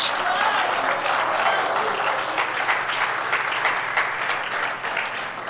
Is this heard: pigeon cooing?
no